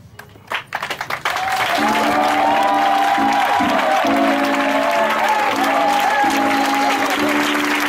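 A church congregation claps and cheers to acclaim the Lord, sustained applause rising after a few scattered claps, with crowd voices and a musical tone sounding beneath.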